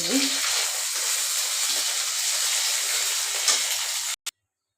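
Fish fry in a pan with a loud, steady sizzling hiss close by that cuts off abruptly near the end.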